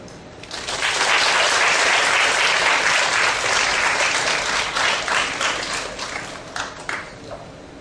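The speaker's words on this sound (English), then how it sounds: "Let's have a round of applause" An audience at a school interview-skills talk at a Christian academy applauds: dense, loud clapping swells quickly, holds steady for several seconds, then thins into scattered claps as it fades.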